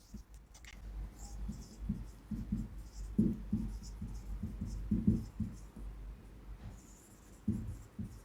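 Pen writing notes on paper, with soft scratchy strokes coming in uneven bursts and brief pauses, heard close and faint, no talking.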